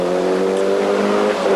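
A Toyota Celica GT4 rally car accelerates hard at the 1995 24 Hours of Ypres rally in Belgium, its engine a loud, steady, close drone that holds throughout, with no voices.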